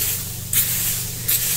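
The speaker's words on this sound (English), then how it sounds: "take some ironing spray and spray it" Ironing spray misted from a spray bottle during a bag-making craft job, two short hissing bursts about 0.7 seconds apart over a steady low background hum.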